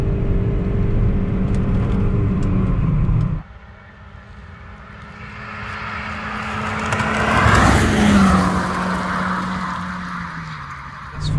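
VW Polo 1.0 TSI and Hyundai i30 2.0 16V manual cars racing: a loud engine roar that cuts off abruptly after a few seconds, then swells again as a car rushes past with rising and falling pitch.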